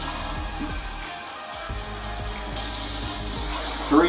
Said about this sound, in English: I'll put in 4 cups of this hot water